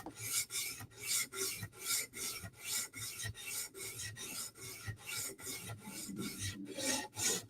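Rhythmic rasping strokes of a Spyderco PM2 knife edge drawn across a sharpening stone, about a dozen even passes at a steady pace, close and clear with no talking.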